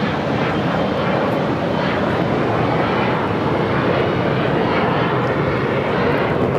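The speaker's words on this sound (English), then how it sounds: "This is United Express 5844 taking off to Austin on the E175." A United Express Embraer E175 taking off at LAX gives a loud, close, continuous engine roar, a dense broadband rush with deep rumble that holds strong throughout the takeoff run.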